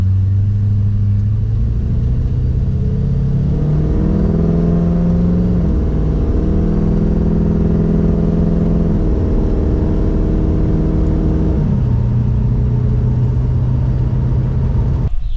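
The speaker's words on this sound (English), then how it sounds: "Car's running good, car's driving good." A Ford Fairlane's engine hums loud and close from inside while driving, a steady low drone that rises in pitch as it accelerates and drops back with gear changes, with no voices.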